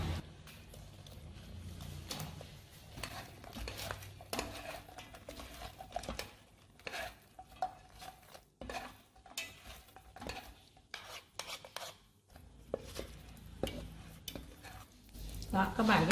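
Fried pork is stirred into sweet and sour sauce in a pan, giving soft irregular scraping and sticky sizzling pats at close range, with a voice talking over the stirring.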